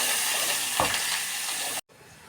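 A paste of tomato, onion, coconut and coriander frying in oil in a pot, steady close sizzle with one brief clunk of a utensil before it cuts off abruptly.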